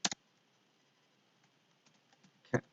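Keystrokes on a computer keyboard while cricket figures are entered into a spreadsheet: a quick double tap at the start, faint scattered clicks, then another short burst of keys near the end, all quiet and close.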